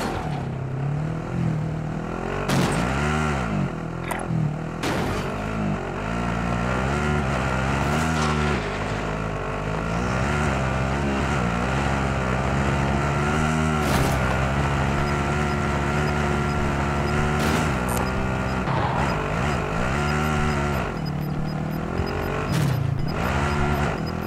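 Vehicle being driven in Call of Duty Modern Warfare, a steady droning engine whose pitch rises and falls repeatedly as it speeds up and slows, with occasional sharp knocks and bumps, close and continuous, no voices.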